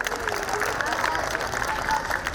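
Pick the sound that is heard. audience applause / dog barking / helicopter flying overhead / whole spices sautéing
audience applause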